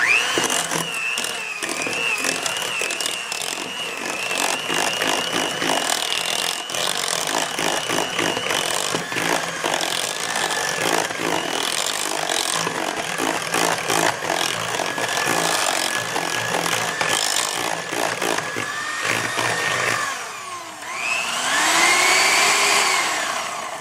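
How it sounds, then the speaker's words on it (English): An electric mixer whips coconut cream flavoured with vanilla, a steady whirring motor drone that runs for about twenty seconds, shifts in pitch near the end and stays close and loud, with no talking. "Just take with your mixer and start mixing it."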